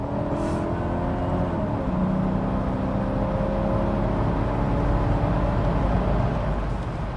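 Mercedes W126 6.0 SEL 4V AMG V8 sedan accelerating hard from a standstill: a loud, steady engine roar climbs through rising revs with a gear change early on, heard from inside the cabin without talk.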